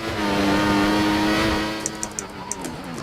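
A Lotus race car engine drones steadily on a flying lap in a racing video game, a loud, sustained tone that eases off, then gives way to a few sharp ticks and clicks.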